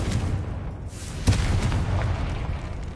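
A Confringo blasting spell bursts in Hogwarts Legacy, a sharp explosive crack near the middle followed by a rumbling low boom, set against a steady background of game noise with no talk.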